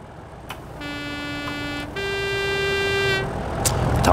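A Class 37 diesel locomotive horn in Train Simulator 2016 sounds two sustained blasts, the first lower and the second higher in pitch, loud over a steady engine rumble.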